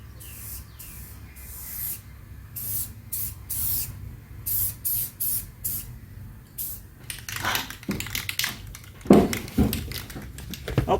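Aerosol spray can applying light coats over urethane on homemade floor pans of a 1974 Dodge D100 truck, heard as a series of short hissing bursts, then longer, louder sprays near the mic, with no talk.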